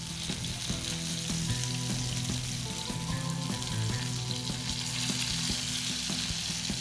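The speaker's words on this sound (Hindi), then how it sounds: "देखें ये फ्राई हो रही है" Chicken chullu kabab frying in a pan gives a steady, loud sizzle with crackling oil that runs the whole time, and nobody speaks over it.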